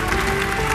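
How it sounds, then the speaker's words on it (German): Audience applause for a representative of the Magdeburg children's hospice on stage at the Goldene Henne 2023 gala: a steady, dense wash of many hands clapping, loud and unbroken throughout the brief moment. "Das ist euer Applaus."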